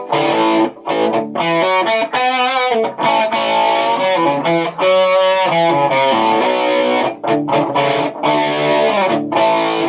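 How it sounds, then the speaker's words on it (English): An electric guitar through an overdrive pedal and a treble booster plays thick, gritty chords and sustained notes, loud and close, with brief gaps between phrases. "if I want a bit of sort of heavier overdrive, but not quite distortion, I'll kick on my overdrive"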